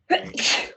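A single sharp human sneeze, close and clear, lasting under a second.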